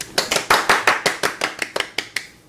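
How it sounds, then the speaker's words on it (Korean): Short burst of applause in a Korean studio talk show, about a dozen distinct hand claps in a quick, even rhythm from a small group, close and clear before tapering off. "박수."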